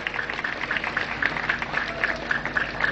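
Seated audience at a scholarship distribution function clapping in honor of a guest, a dense and steady patter of many hands that continues evenly throughout, with faint voices underneath.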